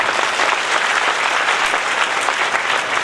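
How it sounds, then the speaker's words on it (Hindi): A loud, dense wall of applause from an audience at a Shrimad Bhagwat religious program held at a gaushala, sustained and even for several seconds with no pauses. "अपने लिए एक बार जोरदार तालियां बजाओ।"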